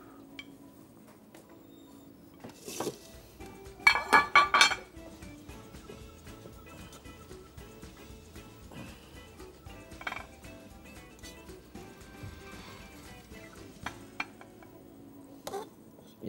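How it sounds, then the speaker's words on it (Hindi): Freshly cooked rice is served onto a plate from a covered pot. A burst of bright metallic clinks from the serving spoon comes in the middle, with a few softer knocks and a low kitchen hum throughout. Nobody speaks. "मैं इसको डिश आउट कर लूँ।"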